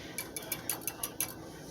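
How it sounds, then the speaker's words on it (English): A whisk clinks quickly against a pot on the stove, stirring German chocolate frosting mixture over medium heat; light metallic taps repeat in an uneven rhythm, close and clear, with no voices. "we want to just keep whisking this"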